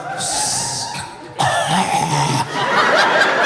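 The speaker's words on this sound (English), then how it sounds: "That was a cough." A single harsh cough bursts out close by, followed by a noisy rasping stretch like further coughing or throat clearing, with no speech.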